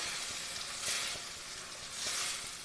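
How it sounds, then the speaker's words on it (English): Soft, steady sizzling of stir-fry sauce in a pan, a continuous hiss that swells slightly twice as it is stirred. "It smells really good, and it makes a nice little sizzle"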